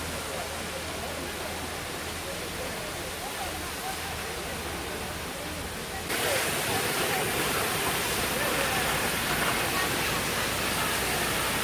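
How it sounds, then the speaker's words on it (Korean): Jeongbang Waterfall on Jeju pours steadily in a dense, continuous broadband roar that grows noticeably louder and closer halfway through, with no voices on top. "그래서 비가 안 와도 이렇게 강방폭포는 물이 계속 내려온다고 합니다"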